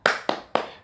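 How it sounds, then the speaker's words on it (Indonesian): Three sharp, evenly spaced hand claps in a classroom spirit cheer, crisp and close, each with a short decay. "kita tepuk semangat dulu yuk"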